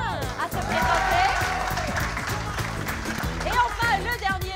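A television studio audience at a French-language dating show from Réunion gives a round of applause and cheers over a rhythmic music bed as contestants are introduced.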